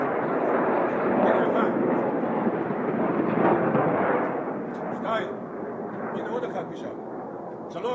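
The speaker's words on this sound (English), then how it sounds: "Now they hear the explosions, they're starting to get scared." Several rocket interceptions by the Iron Dome system explode overhead as a dense, continuous rumbling barrage of booms, loud throughout and easing slightly toward the end, with voices audible beneath it.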